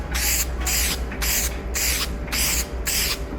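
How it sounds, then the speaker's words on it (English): Primer sprays onto the bare metal bodywork of a 2003 Nissan Skyline G35 in six rhythmic hissing bursts, each about half a second long with short gaps between them, loud and close. "what better way to protect the metal than with some primer"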